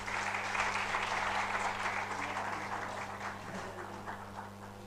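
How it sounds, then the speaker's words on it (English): At an HR conference, an audience gives a big round of applause as a memento is handed to a guest. The dense crowd clapping is loud and sustained, then eases off slightly, with a low steady hum underneath. "Please give a big round of applause to the new person handing over this memento to our guest."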